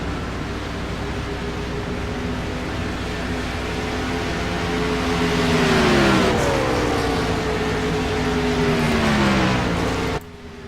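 A Harley-Davidson race truck's engine revs loudly and steadily during a four-tire pit stop, with the pitch sweeping down near the middle as it pulls away.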